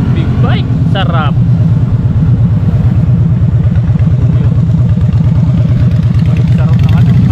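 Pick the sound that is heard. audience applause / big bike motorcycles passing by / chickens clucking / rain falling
big bike motorcycles passing by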